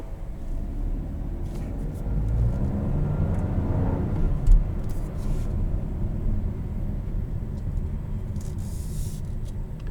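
A 2021 Buick Encore GX Select with a 1.3-liter turbocharged three-cylinder engine drives along, giving a steady low drone and road rumble heard from inside the cabin at moderate level, with no talking.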